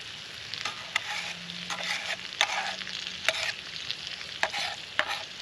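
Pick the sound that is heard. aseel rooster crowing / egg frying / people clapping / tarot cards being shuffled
egg frying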